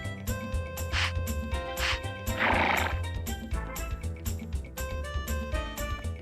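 A horse whinnies repeatedly in the Harvest Moon 64 video game, with clip-clop hoofbeats and bright game music playing throughout.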